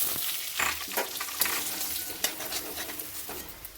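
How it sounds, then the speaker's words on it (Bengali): Ground spices fry in oil while being stirred, a steady sizzle broken by several sharp scrapes and knocks of a utensil against the pan. "গুঁড়ো মশলাগুলো দিয়ে দেবো"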